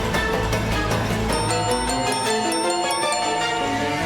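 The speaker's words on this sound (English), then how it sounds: "Despite the engine bell ringing, there is no one there." An old engine bell in the video game Goddess of Victory: NIKKE rings repeatedly and insistently, a dense cluster of metallic tones layered over background game music.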